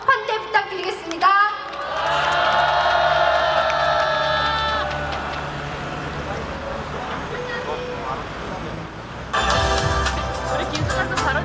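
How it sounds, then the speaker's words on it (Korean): Crowd cheering and applause at an outdoor candlelight citizens' rally in Incheon, a sustained roar of many voices lasting most of the stretch after an opening bit of speech, with a voice returning near the end. "큰 박수와 환호로 환대 부탁드리겠습니다."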